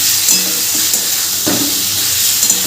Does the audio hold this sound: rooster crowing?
no